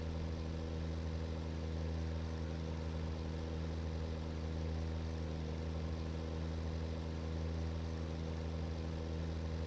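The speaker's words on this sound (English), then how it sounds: "Alright, you got a little engine there." A vehicle engine drones steadily in a video game battle, a constant low humming rumble with no change in pitch for nearly ten seconds, moderately quiet and without any talking.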